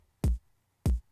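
Two hits of a distorted kick drum sample, played alone a little over half a second apart, each a punchy, sustained low boom with a gritty, bright upper edge that cuts off abruptly rather than ringing out.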